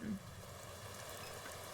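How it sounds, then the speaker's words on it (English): Steady downpour in the video game NORCO, a soft, even hiss of rain that stays faint and constant throughout, with no talk over it. "Downpour finds its way into the drainage canal, its water level slowly rising."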